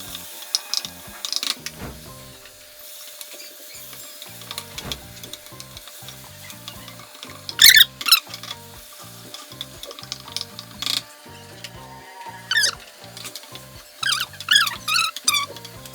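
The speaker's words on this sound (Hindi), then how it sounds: "अब हम प्याज शामिल करेंगे। प्याज को गोल्डन ब्राउन करेंगे।" Onions fry in hot oil in a pan for a brain masala fry, with a constant low sizzle under sharp scraping and stirring clicks that come in irregular clusters, loud and close.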